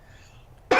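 A single loud, close cough bursts out abruptly after a quiet stretch of low background hum, ending the moment with a harsh, breathy rasp.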